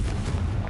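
A Confringo blasting spell detonates in a video game as a short, muffled, booming explosion, loud and close, with a rumbling low end.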